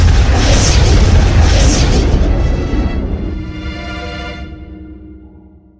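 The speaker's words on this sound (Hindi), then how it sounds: "अरे ये धमाका कैसा?" A loud cartoon explosion from a Hindi 3D animated series bursts with a deep boom and crackling debris, then slowly decays with a rumbling, ringing tail over several seconds.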